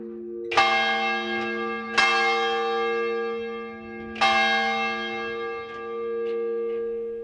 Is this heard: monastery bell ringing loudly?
yes